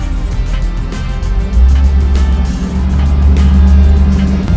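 A show car's engine idles and rumbles low as it rolls in at an outdoor car show, a steady close throb that swells louder about halfway through.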